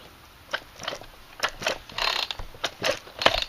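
A small Poulan chainsaw is pulled over by hand, its chain moving with a run of dry mechanical clicks and ratcheting ticks, irregular and close, no voices.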